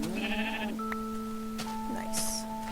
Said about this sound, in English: There's another sheep hiding somewhere around here.